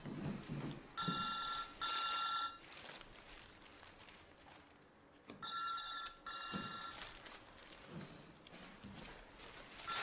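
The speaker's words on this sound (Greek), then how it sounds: "Πρώτη φορά σε βλέπω να μη σηκώνεις τηλεφώνημα δουλειάς." A telephone rings for a work call in two bursts of bright electronic trilling, loud and near, separated by a quieter stretch of low room noise and faint shuffling.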